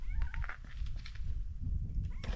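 A cat trailing a cyclist on the Giara plateau in Sardinia gives a few faint, short meows at a distance, over a low outdoor rumble.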